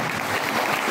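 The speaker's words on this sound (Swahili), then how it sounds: "Pigieni pastor makofi mazuri." A church congregation applauds the pastor in a brief, dense burst of clapping heard close and loud.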